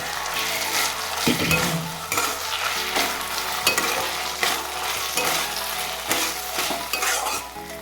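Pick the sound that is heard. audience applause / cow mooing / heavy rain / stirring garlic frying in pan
stirring garlic frying in pan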